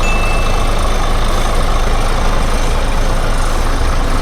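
The 240-horsepower engine of an Isuzu FTR six-wheel truck towing a trailer idles close by in a steady, dense, continuous rumble with no talking.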